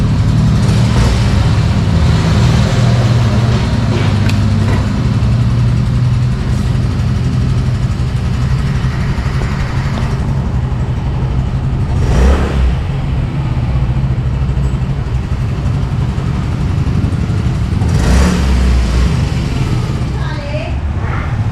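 A 2023 Yamaha Mio Gear scooter engine idles nearby with a steady low rumble, briefly revving a couple of times, while someone talks over it throughout.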